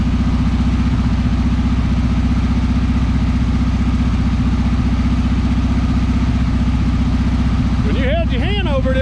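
A revived 1976 Volkswagen Beetle engine with a 40 Ford kit idles steadily with an even, rapid chugging pulse, loud and close, and a voice cuts in briefly at the end.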